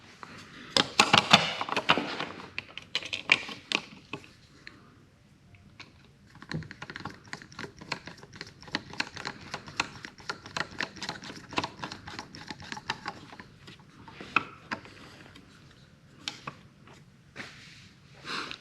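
Screws being driven by hand to fasten an electrical outlet faceplate back over a spacer in the wall, heard as quiet close clicks and scratchy turning strokes that come in bursts with short pauses.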